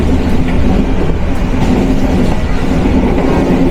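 Heard from the guard room on the Rangpur Express between Dhaka and Rangpur, the passenger train runs loud and steady on its rails, a constant rolling rumble with faint rhythmic clatter and no voices.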